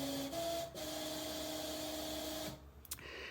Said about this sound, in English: So the next waveform is the internal noise source.